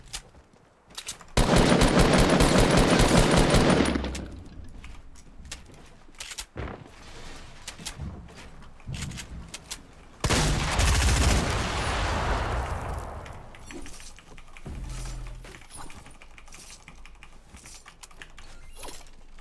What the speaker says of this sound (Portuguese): Cara atirando lá dos caramba, olha.